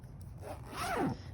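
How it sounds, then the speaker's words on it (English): A zipper on a sewn fabric pouch is pulled along its track in one quick, rasping stroke that rises and then fades, close by in a quiet room. "we're just going to confirm once again that my zipper opens and closes"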